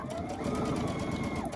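A sewing machine runs steadily, stitching a line across a small wooden spool craft piece, its motor hum continuous and close throughout.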